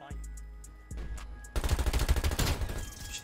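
Gunfire from the LC10 submachine gun in Black Ops Cold War on PC: a couple of deep thuds, then a loud, sustained rapid-fire automatic burst rattling for nearly two seconds.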